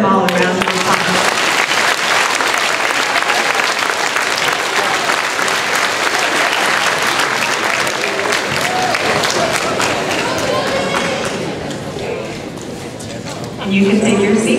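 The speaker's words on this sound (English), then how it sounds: "Let's give them all a round of applause." A crowd at an 8th grade graduation and academic awards ceremony applauds in a long, steady wash of clapping that dips briefly near the end, then swells again, with a voice faintly underneath.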